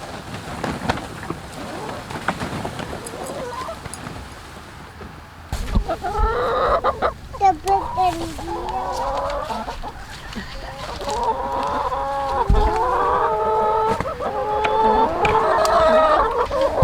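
Several chickens cluck and chatter nearby, their calls rising in busy overlapping bursts after a quieter start, with brief faint noises in between.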